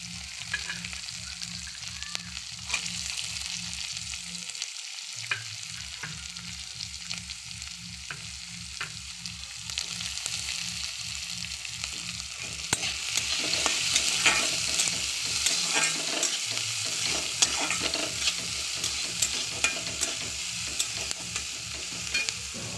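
Chopped onions sizzle and fry in a pan for masala dosa, a steady close sizzle with occasional stirring scrapes over a low rhythmic hum, running continuously with no talking.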